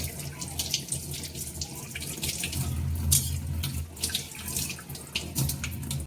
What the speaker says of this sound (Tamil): இதை சுத்தமாக நல்லா கழுவிக்குவோம்.